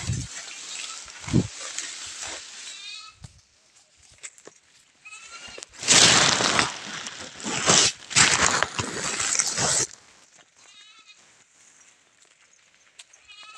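A goat bleats in short wavering calls between stretches of loud rushing noise, with sparse knocks and rustles around it and no talking.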